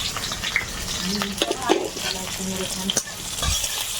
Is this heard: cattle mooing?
no